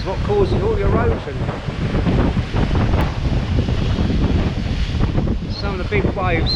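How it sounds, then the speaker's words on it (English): Big waves crash and surge against coastal cliffs in strong wind, a dense continuous roar of surf and gusts buffeting the microphone close by, loud and steady throughout. "Some of the big waves, I was here a few minutes ago, so I was about to get the camera"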